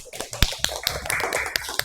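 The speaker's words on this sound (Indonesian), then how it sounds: "Oke, tepuk tangan buat Rafa." A few people clapping in a classroom lesson on basic concepts of artificial intelligence, sparse irregular claps close by with faint room noise between them.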